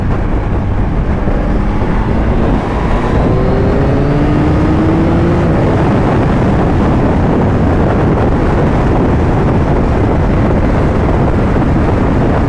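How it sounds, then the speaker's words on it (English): Strong wind roars and buffets the microphone continuously, a dense, loud rush with faint traffic or engine tones underneath. "it's really windy"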